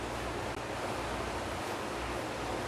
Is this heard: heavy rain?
yes